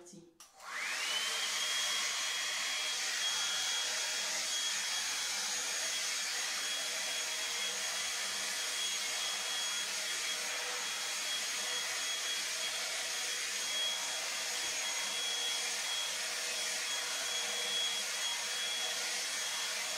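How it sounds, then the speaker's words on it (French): A steady, loud electric whir of a hair-straightening brush runs continuously after a brief click at the start, with a high whine on top and no voices. "On va allumer la brosse et puis on va brosser les mèches."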